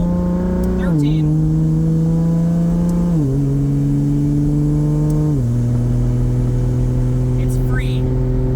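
A Nissan S14 with a swapped 2JZ engine and 8HP70 automatic gearbox cruises at light throttle, its steady engine hum stepping down in pitch through three smooth upshifts, heard up close from inside the car.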